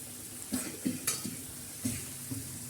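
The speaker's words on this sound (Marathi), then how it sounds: "ते अशा चकल्या एकदम मस्तपैकी अशी तवा फ्राय आपण बनवत आहोत." Bitter gourd slices fry on a tawa and get stirred, a steady soft sizzle broken by about five sharp scraping clinks of the spatula against the pan, close and fairly quiet.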